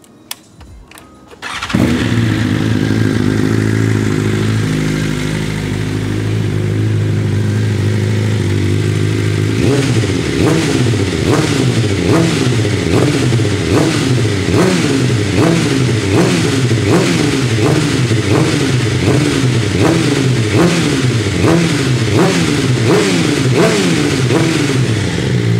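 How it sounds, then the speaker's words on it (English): A BMW M1000RR motorcycle fitted with a mid-length Akrapovic carbon exhaust fires up after a short silence, then idles loud and close and is blipped through a long series of rhythmic revs. "Now I'll just start it up. I won't rev it too much because we don't want to make too much noise"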